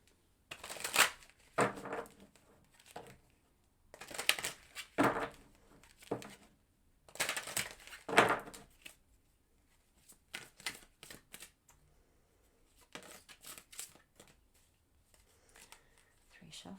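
Tarot cards shuffled in several quick bursts of papery riffling and tapping, alternating with quieter gaps, close and moderately loud, with no speech over them.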